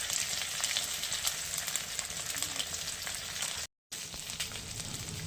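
Whole garam masala and cumin seeds fry in ghee in a pan for dal, a dense steady sizzle with crackling pops throughout and a brief gap of silence near the end.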